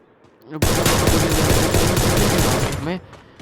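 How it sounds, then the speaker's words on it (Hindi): Rapid automatic gunfire from the Free Fire battle-royale video game rattles loudly and continuously for about two seconds, sounding close and dense, starting abruptly and then cutting off. "फिर कहीं से गोलियां लग रही हैं।"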